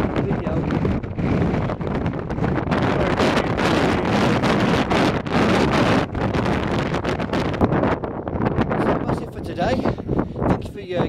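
Strong wind gusts across the hilltop on a damp walk up Moel Famau in North Wales, buffeting the microphone with loud, continuous rumbling roar for the whole stretch.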